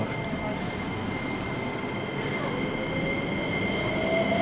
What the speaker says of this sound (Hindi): अभी मैं बैठ गया हूँ मेट्रो में